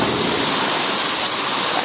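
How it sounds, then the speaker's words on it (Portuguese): Water cascading down a waterfall at the Hot Park in Rio Quente, Goiás, a dense, loud, unbroken roar of rushing water. "olha a cascata aí, ó."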